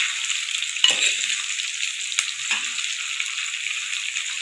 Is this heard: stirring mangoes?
yes